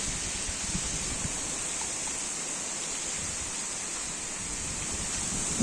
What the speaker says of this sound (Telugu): ఎట్లా గాలి వస్తుంది.